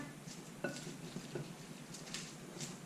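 Salad ingredients with salmon and greens being tossed together in a bowl. Faint, light clinks and soft patters of a utensil against the dish come in a few sparse taps, quiet and alone with no talk.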